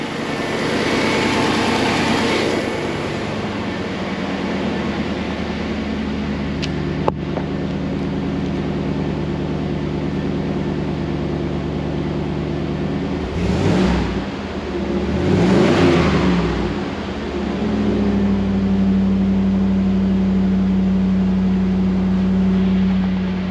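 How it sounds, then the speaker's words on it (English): A 1988 Camaro Z28 V8 idles with a low steady burble, then revs twice in quick succession with rising and falling roars before settling back to a rumbling idle, heard close outdoors. "Engine sounds good."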